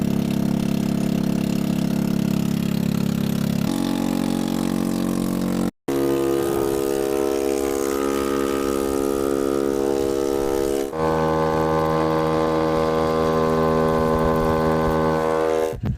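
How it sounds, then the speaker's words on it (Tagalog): A fishing boat's engine at full throttle drones loud and continuous off El Nido, Palawan, its pitch stepping up in stages as it revs harder, with no voices over it. "sinagad na ni tatay ang kanyang makina"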